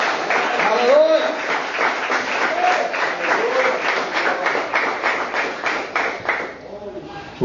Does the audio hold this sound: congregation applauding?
yes